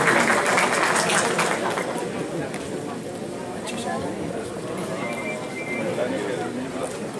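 Applause from the audience at a mushaira poetry gathering, a steady wash of many clapping hands that fills the hall and slowly eases, with a voice speaking through it.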